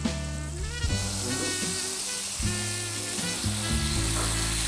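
Food sizzles and fries in a pan that is swirled by hand, a loud, steady hiss running throughout, while people talk over it.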